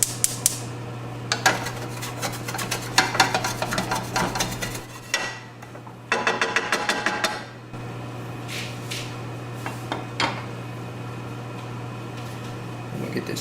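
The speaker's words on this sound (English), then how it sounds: "So I'm going to get a wooden spatula. See if I can loosen some of this up." Wooden spatula scraping caramelized lamb from a hot pan, with repeated clattering scrapes and knocks in uneven bursts over a steady low hum, no talking.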